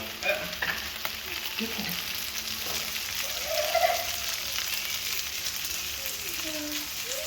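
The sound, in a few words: pad kra pao frying with tomatoes in a pan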